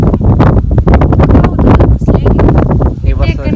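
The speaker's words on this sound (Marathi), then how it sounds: "कसा कसा वारा सुटला" Strong wind buffets the microphone with a loud, constant low roar while people talk over it.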